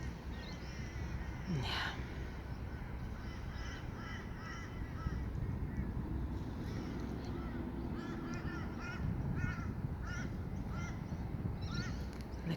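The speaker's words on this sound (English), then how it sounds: "The crows are there." Crows cawing in repeated harsh calls near a bay, scattered across a steady background of water and outdoor noise, with a brief spoken word.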